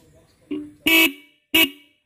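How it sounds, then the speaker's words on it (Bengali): Horn of an old 1999 Yamaha RX 115 motorcycle with a rusting tank, three short beeps in a row, the first brief and soft, the next two louder and held, close by. "হর্নটা বাজে ট্রাই করি"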